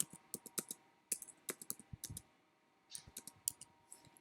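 Fingers tap out text on a computer keyboard while editing a seating chart PDF in Adobe Acrobat, giving quiet, close, irregular clicks in two quick bursts separated by a short pause.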